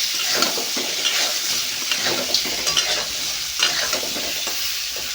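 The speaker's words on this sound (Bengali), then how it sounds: "পরিমাণ মতন লবণ এবং পরিমাণ মতন হলুদ দিয়ে আলু, বেগুন এবং কাঁচকলা সবগুলোকে ভালো করে ভাজতে হবে।" Potato, eggplant and green banana frying with salt and turmeric for a Bengali vegetable curry, a steady close sizzle with repeated scraping stirs and clinks of a utensil against the pan.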